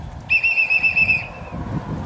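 A single shrill pigeon-calling whistle blast, held steady for about a second, sounds clearly over a low outdoor rumble at a pigeon loft.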